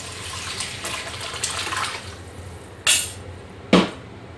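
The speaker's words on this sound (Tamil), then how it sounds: "நெக்ஸ்ட் நம்ம இந்த புளி கரைச்சல் ஆட் பண்ணிக்கலாம்." Tamarind water being poured into a pan of fish curry, a steady close liquid pour with splashing, followed by two short sharp clatters near the end, no talk.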